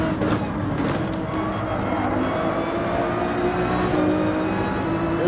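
A race car engine at full throttle in Gran Turismo 7, droning steadily and loudly with rising revs and brief gear-shift sweeps, another car audible alongside, no talk.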